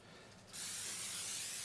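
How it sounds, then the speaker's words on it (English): Vegetable cooking spray greases a gratin pan, bursting into a loud, steady close-up hiss after a brief quiet start and continuing without a break to the end, with no talking. "I use vegetable spray just because I have it out"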